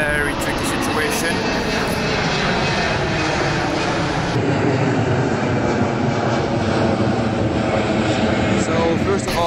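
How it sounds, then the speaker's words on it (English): Harsh, steady roar of an airplane flying overhead, picked up outdoors by a phone microphone, loud and continuous with a noisy, wind-like texture and no clear talk. "we have like a really harsh sound from the airplane"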